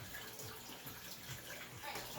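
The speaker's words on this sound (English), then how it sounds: "Just going to put just enough water in there just to let it sit" Water poured from a kettle over loose and compressed Xiaguan iron cake tea leaves, a soft, steady low trickle and splash lasting a couple of seconds, faint and close with no talk over it.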